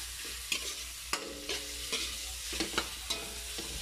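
Dried anchovies (dilis) tossed with tomatoes in a hot pan, giving a steady sizzle under repeated scraping and clacking of a spatula against the pan. Close up, with no talking.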